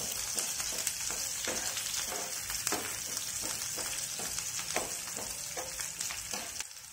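Sliced onions frying golden in oil over a medium flame for restaurant-style veg noodles, with a constant close sizzle and regular spatula stirring strokes scraping the pan, no talk.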